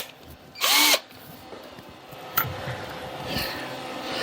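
A restored 1900s drill press cutting a chamfer into metal, a single brief loud burst of drilling that grinds for under half a second, followed by quieter workshop clatter.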